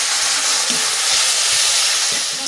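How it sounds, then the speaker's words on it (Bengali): Water hits frying ground spices (turmeric, Kashmiri chilli, cumin and coriander powders) in a hot pan, giving a loud, close, continuous sizzle that holds steady throughout without any talk. "এবার জল দিয়ে দেবো।"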